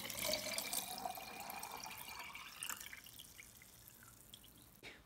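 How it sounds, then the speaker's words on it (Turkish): Water is poured into a jar of crushed eggshells, a steady trickling and dripping that is loudest at the start and gradually thins out. A sharp knock or clatter comes at the very end. "Kavanozumun içerisine alabildiği kadar suyumu ilave ediyorum."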